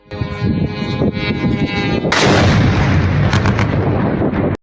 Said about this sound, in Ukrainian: самі росіяни посять відео з чисельними вибухами